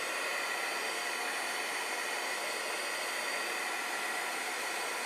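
A hair dryer blowing on a sheet of marker-colored paper, a constant close whooshing airflow with a broad, hissy rush that stays even and unbroken throughout.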